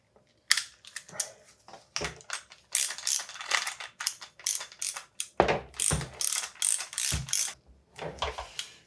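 A ratchet wrench turns a 24 millimeter socket on a Rockshox Recon RL bicycle suspension fork during servicing. Rapid, close clicking comes in repeated bursts with brief gaps, and no one speaks.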